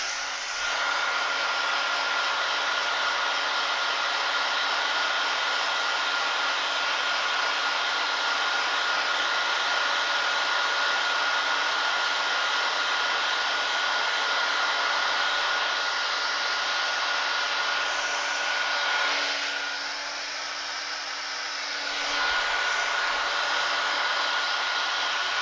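A blow dryer runs continuously near a turned, beaded and colored end grain wooden vase, a loud, steady whooshing roar with a faint tonal whine that dips briefly near the end as the airflow shifts, then resumes; no speech.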